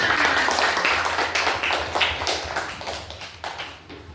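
Elementary school pupils clap their hands together in a classroom, a dense, continuous patter of many claps that fades slightly toward the end.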